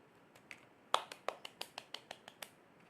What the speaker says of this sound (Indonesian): beri tepuk tangan buat Dina